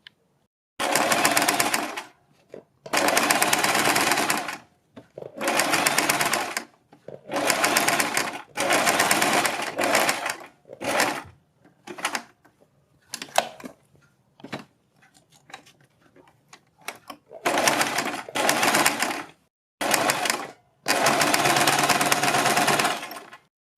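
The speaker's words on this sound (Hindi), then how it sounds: "इसके बाद हम इसके किनारे किनारे पर पूरे गले पर एक सिलाई लगा देंगे।" Sewing machine running in repeated bursts of stitching along the edge of a garment neckline, each run a few seconds long with brief pauses between, close and steady, no voices.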